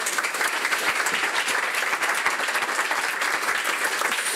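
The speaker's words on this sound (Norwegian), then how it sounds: "Først applaus til Anders og Tine." An audience at a Norwegian local climate risk seminar applauds, a full, even round of clapping from many hands, sustained throughout.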